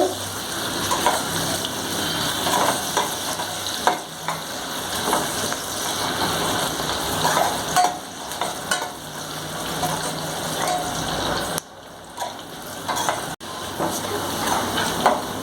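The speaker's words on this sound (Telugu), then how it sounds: "ఆనియన్స్ ఇట్లా మంచిగా ఫ్రై అవ్వాలండి" Onions frying in a pan for chicken biryani, a dense, continuous loud sizzle with faint crackles throughout, dipping briefly near the end.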